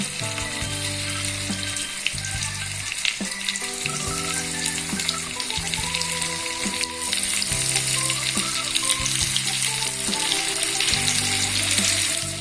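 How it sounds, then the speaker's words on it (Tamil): Pieces of fish fry in hot oil for a fish thokku, a strong, steady sizzle that swells louder partway through, with music playing underneath and no speech. "ஒவ்வொரு பீஸாக வச்சு நல்லா ஃப்ரை பண்ணி எடுத்துக்கணும்."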